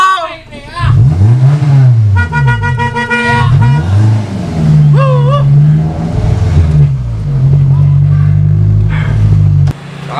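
Motorbikes and cars pass close and loud, with revving engine tones and short horn toots that waver in pitch and carry on almost continuously, while a voice shouts over them.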